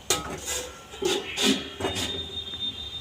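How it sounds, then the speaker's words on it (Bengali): A metal lid is set over a steaming pot holding a tiffin box, giving several close clanks and scrapes of metal on metal in quick succession, with no talk. "একটা ঢাকনাকে এবার ঢেকে দেবো"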